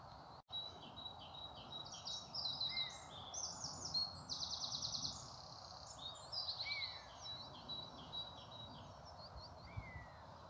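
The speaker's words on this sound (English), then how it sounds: "All I can hear is the birds chirping." Faint birds chirping and calling in the distance, intermittent tweets over a soft outdoor background hum, on a hilltop walk around the Devil's Punch Bowl at Hindhead.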